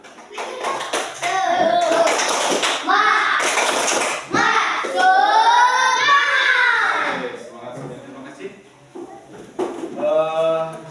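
A group of primary school children in Sekarwangi, Cianjur, Indonesia, clap and chant a rhythmic cheer together in class, voices loud and close, with bursts of sharp hand claps.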